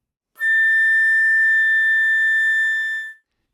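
On a flute, a single high A natural in the third octave is held steadily for about three seconds, clear and whistle-like, then stops cleanly. It is played alone.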